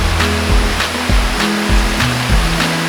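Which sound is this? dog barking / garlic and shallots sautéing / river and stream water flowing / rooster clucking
river and stream water flowing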